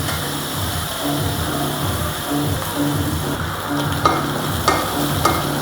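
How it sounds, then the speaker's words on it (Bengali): Small shrimp frying lightly in oil with a little turmeric, a steady close sizzle with soft stirring scrapes and a few sharper clicks near the end. "সামান্য একটু হলুদের গুঁড়ো দিয়ে আমি চিংড়ি মাছটা হালকা"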